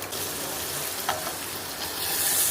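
Slit green chillies, curry leaves and ginger garlic paste fry in hot oil with a steady, close sizzle and crackle, a brief sharper pop in the middle and the hiss swelling toward the end.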